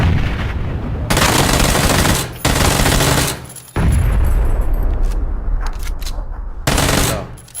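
Sustained automatic gunfire in PUBG Battlegrounds, loud and close, comes in long dense bursts broken by brief pauses, with heavy booming low end throughout.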